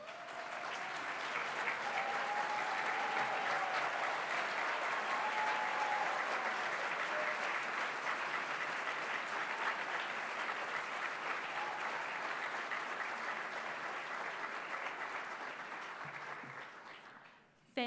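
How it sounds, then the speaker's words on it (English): Sustained audience applause for nominees and past winners at a nursing excellence awards ceremony, a broad, even wash of clapping from a large crowd that holds steady for many seconds before dying away. "please can you stand too for a round of applause?"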